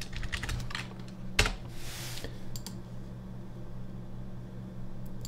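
Computer keyboard typing in After Effects, a flurry of quick light key clicks followed by a few sparse taps and one sharper click, close and fairly quiet over a faint hum.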